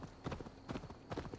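Horse hooves clip-clop in Assassin's Creed Valhalla, a video game, with three or four clustered rhythmic footfalls at a steady walking pace, close and moderately quiet against a faint background.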